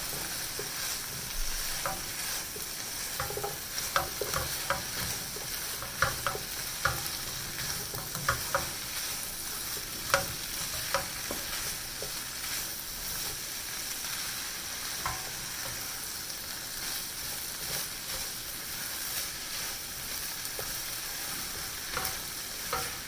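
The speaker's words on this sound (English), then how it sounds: "I'll be adding in the cauliflower now. So I'll mix everything in." Cauliflower stirred into a frying tomato masala for gobi bhaji, a continuous close sizzle broken by repeated scraping and clinking strokes of the spoon through the pan.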